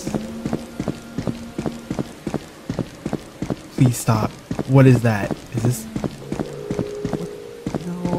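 Footsteps in the horror video game The Mimic tap in a steady walking rhythm, clear and close, pausing briefly while a startled voice speaks over them before the steps resume.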